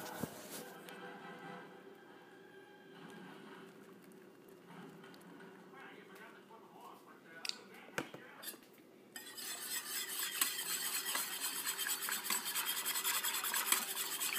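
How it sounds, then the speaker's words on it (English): A spoon scrapes and taps while flour is scooped and sprinkled over food in a crockpot, close and fairly quiet, with a brighter, busier scraping burst near the end and a few sharp clinks. "get a big spoonful like this and just like sprinkle it like that"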